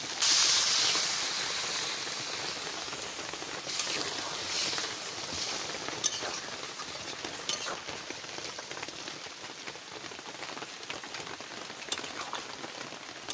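Water poured into hot mutton curry in a pan sends up a loud burst of hissing steam that gradually settles into a softer, steady bubbling sizzle.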